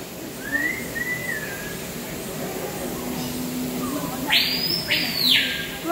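Bird calls inside the National Aquarium in Baltimore ring out as a short whistled call early on, then a louder pair of sharp high chirps near the end, over a murmur of indoor crowd noise.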